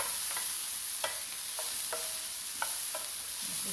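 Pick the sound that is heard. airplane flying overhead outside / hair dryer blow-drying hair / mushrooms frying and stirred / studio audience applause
mushrooms frying and stirred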